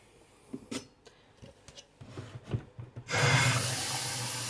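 Tap water gushes steadily into a container to add a litre to torn ivy leaves for homemade laundry detergent, after a few light clinks and knocks. The flow is loud and continuous.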